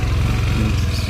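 A vehicle engine that has just been started runs at a steady idle, a continuous low rumble filling the whole short moment with no talk over it.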